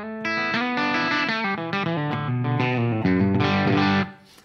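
A Marshall JVM 410H amplifier on its classic plexi setting, into a reactive load with greenback cabinet simulation and light reverb, carries a distorted electric guitar playing a quick run of chords and notes, loud and close, then fading at the end.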